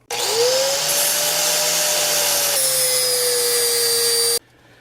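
A flap disc on an angle grinder grinds the bolt heads off an exhaust manifold on an International 1110. It is a loud, steady high whine that shifts pitch slightly partway through, then cuts off abruptly near the end.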